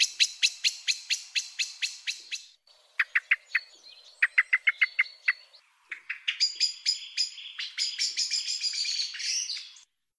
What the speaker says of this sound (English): That's the call of blackbirds going into roost